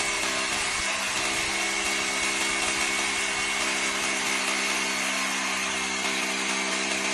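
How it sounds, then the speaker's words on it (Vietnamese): A Hukan K94 three-function concrete hammer drill runs steadily and close, its continuous motor whine and buzzing rattle unbroken for the whole stretch, with no talking. "Rất là nhẹ nhàng, khoan một tay luôn anh em, khoan một tay luôn."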